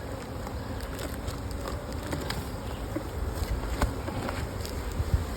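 A dense, steady hum of honey bees buzzing around an opened hive, a single-brood-chamber colony filling several frames, close and continuous with faint rustling.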